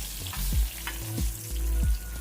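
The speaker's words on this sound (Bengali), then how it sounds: "বাকি রাখা মাছগুলো এবার ভেজে নেব।" Hilsa fish pieces fry in oil in a pan, a soft sizzle with faint clinks and stirring scrapes over a couple of seconds.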